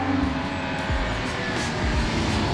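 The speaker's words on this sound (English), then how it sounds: "here we are on the road in one of the rarest and most expensive Aston Martins ever made" An Aston Martin One-77 drives along a road, its engine a moderate, steady rumble with shifting pitch.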